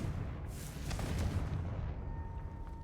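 A Confringo blasting spell from Hogwarts Legacy erupts in a deep, rumbling explosion that swells and fades over a few seconds, with a crackling burst near the start and no voices.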